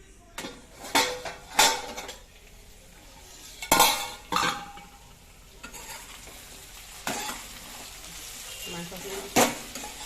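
Sesame chicken sizzling in a pan while a utensil stirs it in short bursts, with scraping and metallic clinks against the cookware and a voice talking at times.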